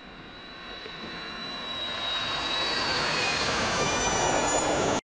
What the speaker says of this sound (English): then an airplane flying away